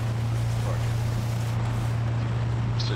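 A plane in PUBG drones overhead as a steady, loud low hum that stays constant throughout, with faint voices underneath.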